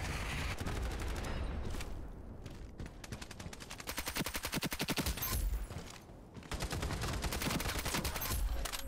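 Dense, continuous automatic gunfire in the online shooter Ironsight, rapid bursts rattling almost without pause, with short lulls before the firing picks up again.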